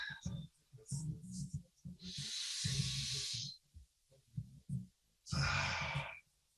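Slow, deep breaths drawn during a stretching exercise: two long, hissing breaths stand out clearly, with spoken instruction in between.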